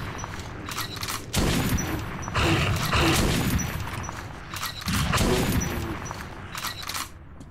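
Gunfire in the Metro 2033 video game comes in repeated bursts of shots, loud and close, with short lulls between volleys and the player's ammunition running low.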